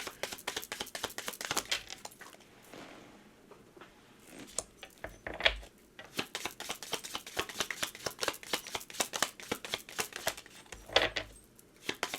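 Tarot cards being shuffled up close, with a quick run of crisp riffling clicks and papery slaps that pauses briefly and then resumes in bursts.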